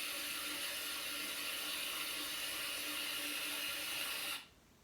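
A water tap runs with a steady, loud, even rush of hiss that holds for over four seconds, then cuts off abruptly into near silence.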